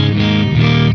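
A loud, thick overdriven electric guitar chord rings through a Synergy TDLX module in a Syn20IR unit, up position with the bright switch in the middle, shifting to a new chord midway and stopping abruptly after a second.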